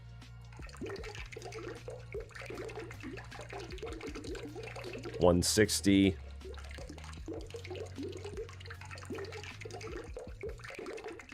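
Water pours into pizza dough in Italian Pizza Simulator as a steady trickling stream, with a brief louder splash midway, running under continuous talking.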